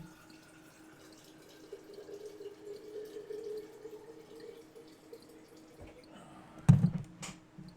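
Water runs from a household tap into a sink or container, a faint steady trickle with a louder clunk near the end.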